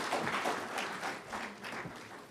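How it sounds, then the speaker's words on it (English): Conference audience applauding the final presenter at a medical conference session, a steady broadband wash of clapping sustained for a couple of seconds at moderate room distance. "So he deserves another round of applause"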